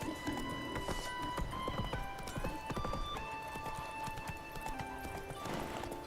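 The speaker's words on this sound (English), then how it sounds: "Run, Roach" Horse hooves gallop in The Witcher 3 video game, a steady rapid clip-clop throughout with a brief whinny, fairly close and even in level.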